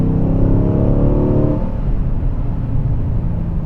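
A car in sport mode accelerates hard from about 15 mph with the pedal floored. Its engine note climbs in pitch for a second and a half, drops at a gear change, then keeps roaring close by.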